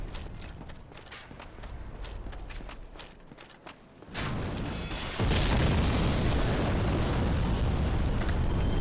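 In the Sen's Fortress video game area, a giant's bombs explode. Low clattering gives way to two sudden jumps into loud, sustained blasts that roar on to the end.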